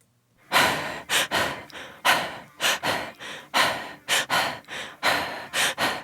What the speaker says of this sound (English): adding a rhythmic breathing to this